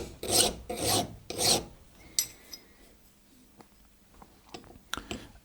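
A metal part clamped in a vise is deburred with a file, giving three loud rasping strokes in steady rhythm, followed by quieter scraping and a few light clicks and taps.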